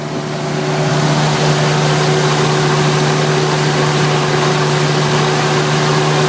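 An Onan generator engine idles at low speed, giving a loud, steady, close drone with a strong low hum that stays even throughout, no voices over it.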